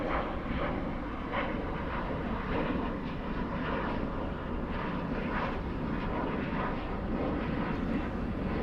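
An airliner roars on takeoff at night at Dallas/Fort Worth airport, a loud, steady broadband jet rumble lasting throughout without talk.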